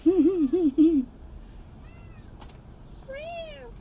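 A cat lets out a few wavering meows up close, then falls quiet before a higher, thinner meow near the end.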